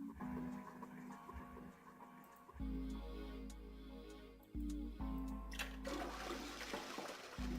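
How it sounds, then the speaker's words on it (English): Toilet in the game 9 Hours, 9 Persons, 9 Doors flushing several times in a row, each flush a sudden low rushing surge of water that settles, fairly close and without speech. "is it actually how many times I need to flush this fucking toilet?"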